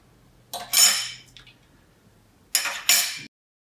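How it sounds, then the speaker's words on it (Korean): Screws being removed from a blues harmonica, giving two short bursts of bright metallic clinks and scraping, close and fairly quiet, separated by a pause with no talk. "여기에 나사들을 제거하시면"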